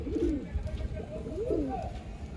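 A female pigeon from a collection of birds for sale in Bangalore coos in low, rolling phrases, two or three soft swells over steady background noise.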